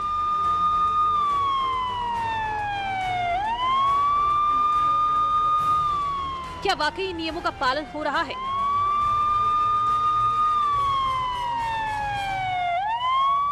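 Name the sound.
vehicle hooter siren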